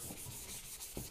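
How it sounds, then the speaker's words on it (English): A fender being sanded by hand with 220 grit sandpaper during restoration prep: a steady, close, continuous rubbing scrape with slight strokes, no talk. "I have a 220 grit sandpaper."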